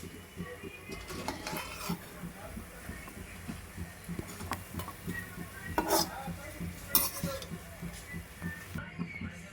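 Bread pieces frying in oil in a pan for double ka meetha, giving a soft steady sizzle with occasional scrapes and clinks of a spatula against the pan as the pieces are turned.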